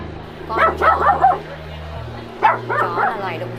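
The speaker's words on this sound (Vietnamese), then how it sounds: "Con chó." A dog gives a few short yips and woofs in two quick bursts, close and fairly loud, over a steady low tonal hum.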